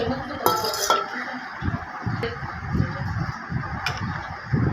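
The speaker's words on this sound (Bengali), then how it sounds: "টমেটোগুলো দিয়ে ভালো করে একটু ঢেকে দিলাম" A lid goes onto a cooking pot holding pointed gourd, potatoes, tomatoes and dried shrimp: a bright metallic clink early on, then low bubbling and shuffling with a couple of softer taps.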